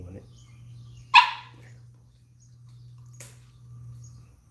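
A dog gives one sharp close bark, then a fainter second yip moments later, over a low steady electrical hum in a quiet room.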